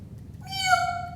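A cat gives a single clear, drawn-out meow that begins partway through and rises then settles, close and fairly loud over a low background hum.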